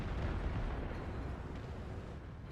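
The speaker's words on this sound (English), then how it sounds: "He puts in a great shot there into the 50-100." A tank's 120mm cannon shot lands in World of Tanks: a dense, continuous low rumble of explosion and blast noise, loud and even throughout without any distinct separate bangs.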